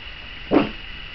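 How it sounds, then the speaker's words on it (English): A single short bark from a pug barking at a ringing bell, fairly close, breaks a steady quiet background hum. "He's barking at the bell."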